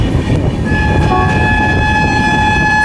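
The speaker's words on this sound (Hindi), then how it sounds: "नॉर्थ ईस्ट एक्सप्रेस के साथ दोस्तों सामने से आ रही है 12505 कामाख्या से चलकर" The North East Express, train 12505 from Kamakhya, roars past at close range with heavy rumbling wagon noise and a sustained tonal horn or whistle layered on top, loud and continuous.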